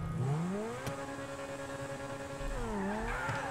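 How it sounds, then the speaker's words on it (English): A modded car in the video game GTA V revs its engine, with rising and falling pitch sweeps and a sharp blip partway through, loud and close with no talking. "Let's hear the engine."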